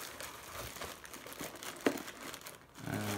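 Crinkling of a small plastic bag of bolts packed with a power supply, handled close up in short irregular rustles and crackles, with one sharper crunch and no talking.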